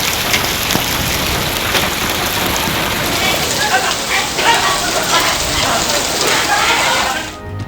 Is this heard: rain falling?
yes